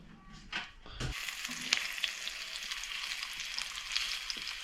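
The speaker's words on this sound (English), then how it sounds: "You just want to slowly fry them for a while till they're nice and crispy." Abalone and lobster pieces slow-frying in a pan until crispy, a steady broadband sizzle and crackle that swells after a brief low thump and stays even throughout with a few sharper pops, no voices.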